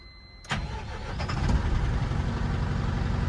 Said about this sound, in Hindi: एक बार स्टार्ट करके केबिन के अंदर इंजन कितना शोर करता है वो सुना दीजिए आप मुझे।